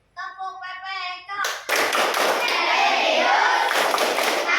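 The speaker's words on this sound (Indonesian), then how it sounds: "Kita tepuk PPK terlebih dahulu." An elementary school class in Rumpin, Bogor chants the PPK clapping routine in unison: voices sing a short rhythmic phrase, then a burst of many hands clapping and thumping in quick, steady rhythm fills the room.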